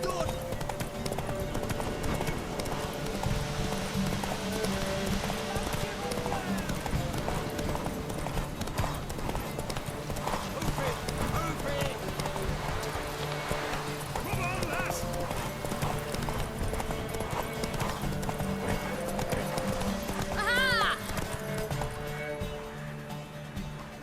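A horse gallops in a horse race in The Witcher 3 video game, with steady hoofbeats and an occasional whinny running under game music while characters talk throughout.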